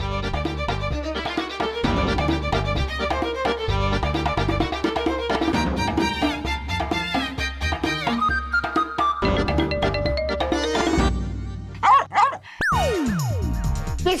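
A voice imitates a dog in a classroom, giving yipping bow-wow barks in short bursts over loud background music.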